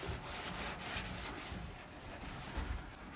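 A heavy-duty clay bar rubs back and forth over car paint rough with overspray, giving a faint, steady scraping friction that comes in repeated strokes at close range.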